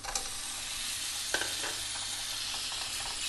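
Tomatoes go into masala frying in a pan for a Goan kingfish curry, with a dense, even sizzle and a few sharp spatula scrapes and stirring knocks, heard close up with no talking.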